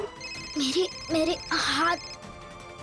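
A phone rings in short repeated electronic bursts, three warbling pulses close by, while a person speaks briefly over the ringing.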